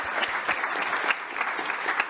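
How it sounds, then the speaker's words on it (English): Steady dense applause from a conference audience thanking the panelists, many hands clapping evenly and continuously at moderate loudness with no voices over it. "So a big round of applause, please, for our fantastic panelists."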